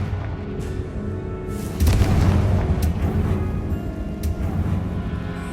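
A Confringo fire spell blasting in Hogwarts Legacy, a loud rumbling boom that swells near the two-second mark and rolls on through the clip, with a few sharp smaller cracks and pops.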